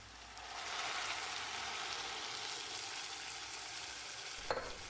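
Rice sizzles and is stirred as it's sautéed in a pot, a steady close frying hiss with a single clack of the spoon near the end.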